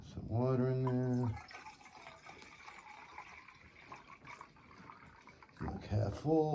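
Water poured into a Stanley thermos at a log camp, a soft trickling fill heard faintly beneath a man's speech at the start and end.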